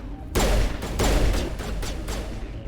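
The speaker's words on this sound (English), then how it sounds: "I shoot a gun like a 12-year-old." Gunfire in the Mass Effect Legendary Edition video game rattles off in several sharp, loud bursts that repeat about every half second over a continuous noisy bed.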